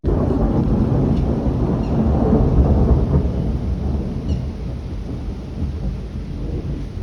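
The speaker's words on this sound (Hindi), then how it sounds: "आज बारिश आ रही है बाहर और मौसम बहुत ही गंदा हो रहा है" Outdoor rain falls during a thunderstorm, with a loud, rolling rumble that swells early and then eases into a sustained wash of rain, no one speaking.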